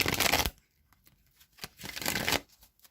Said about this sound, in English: now I'm going to shuffle the Wisdom of the Oracle deck a few times